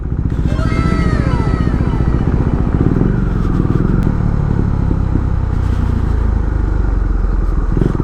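A KTM Duke 390 single-cylinder naked bike rides at speed, its loud engine droning steadily throughout with whooshing wind and road noise, and a rising rev tone near the start.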